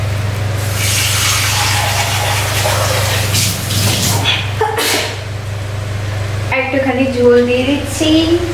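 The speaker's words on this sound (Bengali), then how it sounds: "তো টমেটোগুলো একটু ফ্রাই হয়ে গেছে, এবার আমি দিয়ে দিচ্ছি ঝোল" Broth pours into a pan of lightly fried tomatoes, a steady gushing, splashing rush under a constant low hum, loud and close, with a short break near the middle before the pour carries on.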